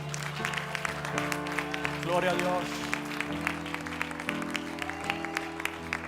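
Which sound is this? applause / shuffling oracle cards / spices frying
applause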